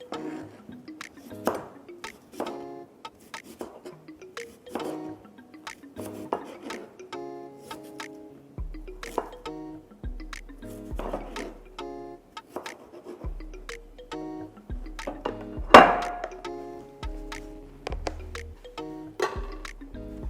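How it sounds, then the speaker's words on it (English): Knife chopping onions on a cutting board in a home kitchen while cooking jollof rice, a series of irregular rapid taps and thuds close by, with dish clatter and faint background sounds. "So I'm going to cut some more onions."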